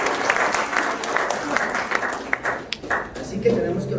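A church congregation breaks into loud, sustained applause during a missions congress in Cusco, dense clapping filling the whole stretch and thinning slightly toward the end.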